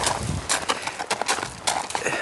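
Hooves clop irregularly on hard ground as a bold horse is led by hand, fairly close, with a few brief noises mixed in.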